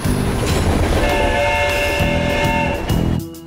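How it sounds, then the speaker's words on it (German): A cartoon train rumbles loudly into a station with clattering wheels and a sustained horn tone, then the noise cuts off abruptly at the end. "der Zug nähert sich unserem Bahnhof"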